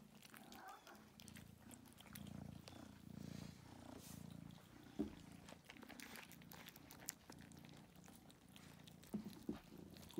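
Kittens, one of them gray, purr steadily while eating close by, a soft continuous rumble with faint chewing and small clicks through it, and no talking.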